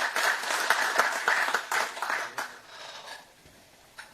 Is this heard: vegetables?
no